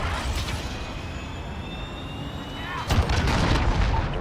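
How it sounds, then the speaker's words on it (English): A cruise missile strike explodes in Call of Duty: Modern Warfare, a heavy booming blast hitting near the end over steady rumbling battlefield noise and a faint background drone, with no talk. "Cruise missile away."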